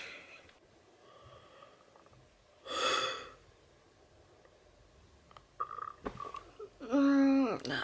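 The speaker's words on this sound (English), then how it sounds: "That was a big yawn." A girl's big, tired yawn at bedtime in her bedroom: a sharp breathy intake near the middle, then a loud, drawn-out voiced yawn with a falling pitch at the end, close to the microphone.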